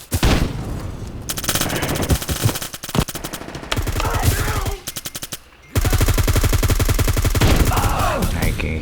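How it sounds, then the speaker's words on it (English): Automatic gunfire from the Bullet Force video game, built on Unity for HTML5, comes as loud rapid bursts of machine-gun fire broken by short gaps and a single heavier shot, with no talking over it. "I can hear the shots."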